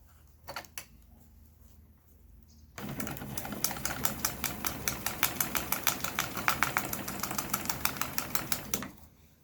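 An industrial bag-closing sewing machine with a 638 head stitches big bags: a couple of brief bursts, then a loud, continuous rapid mechanical chatter of needle strokes over a motor hum lasting several seconds, close by.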